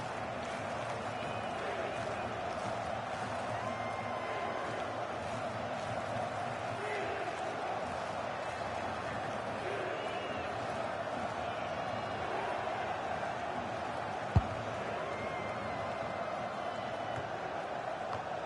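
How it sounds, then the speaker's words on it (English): Stadium crowd in a FIFA video game soccer match performing a Mexican wave: a faint, continuous roar of cheering spectators that stays steady throughout, with a single sharp knock partway through. "The crowd having a good time."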